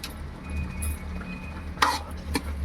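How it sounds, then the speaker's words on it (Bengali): A bottle gourd pitha mixture gets stirred in a bowl, a soft continuous churning with a couple of sharp spoon clinks against the side near the end. "এবারে সবগুলো বেশ ভালো করে মেখে নেব।"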